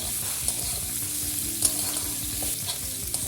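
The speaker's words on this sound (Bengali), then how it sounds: "আমগুলো একটু ভেজে নেব" Mango pieces frying with spices in a pan for a sweet-sour-spicy mango pickle with jaggery, giving a steady close sizzle broken by occasional stirring scrapes and small pops.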